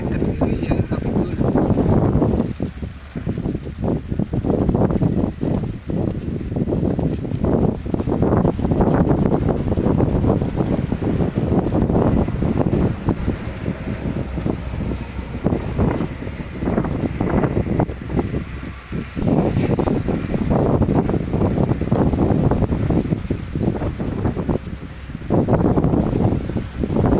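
Strong wind buffets the microphone outdoors in a farm field, a continuous loud low roar with gusty surges throughout.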